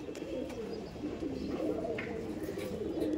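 Racing pigeons coo softly and steadily in a loft, a low rolling murmur throughout, with faint chirps and background bustle.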